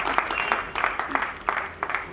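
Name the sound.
audience applauding loudly to welcome guests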